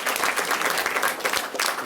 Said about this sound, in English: You better save some of your applause.